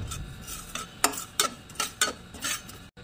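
Poppy seeds dry-roasting in a hot pan, stirred with repeated close scraping strokes in a loose rhythm over a soft steady hiss, ending abruptly, with no voices.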